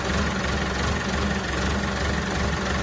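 A tractor engine runs steadily close by, a dense, even, low-pitched rumble with a faint pulsing throb that holds unchanged throughout, with no speech over it.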